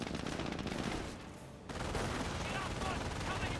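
MG42 machine gun fire in the Company of Heroes battle game, dense rapid bursts of shots that pause briefly and then resume as continuous rattling fire, with mixed in-game battle noise.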